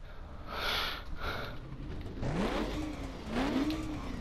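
A stock Cadillac Eldorado accelerating in the racing game The Crew: the engine revs up in two rising surges over a constant road and engine drone, loud and close, with no speech.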